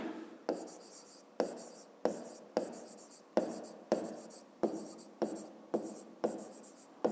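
Pen strokes scratch across paper in a steady rhythm during a fifth-grade math exercise, about ten short bursts each starting sharply and trailing off, close and clear with no talk.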